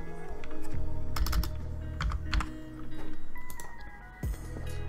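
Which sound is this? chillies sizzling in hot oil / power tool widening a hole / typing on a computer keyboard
typing on a computer keyboard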